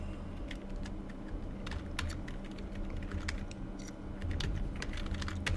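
Typing on a computer keyboard, a close run of quick irregular key clicks over a low steady background hum, no talking.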